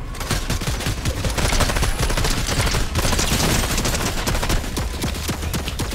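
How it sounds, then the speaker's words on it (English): An automated turret in the video game Fortnite fires a loud, continuous rapid burst of gunfire that runs for the full six seconds with no pauses. "shoot him turret."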